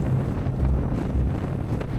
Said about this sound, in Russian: Ветер был настолько сильный, что только вот такие остановки давали время передохнуть перед новым рывком